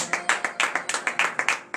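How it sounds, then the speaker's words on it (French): A congregation claps in a quick, uneven rhythm during a morning prayer service in Benin, about a dozen sharp, close hand claps in under two seconds, with no speech over them. "Donnez de vives acclamations au Seigneur."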